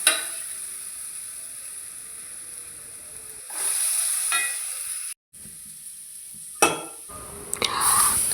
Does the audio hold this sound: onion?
yes